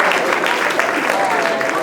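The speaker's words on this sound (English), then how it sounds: "Give them all a great big round of applause" A stage show crowd claps for volunteers hypnotized on stage, a short burst of loud, dense applause that stays even throughout.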